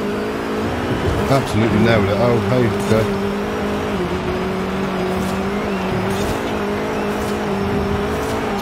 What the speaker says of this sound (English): They absolutely nailed the cockpit views of these cars. It's all the gear changing and the sounds, car sounds.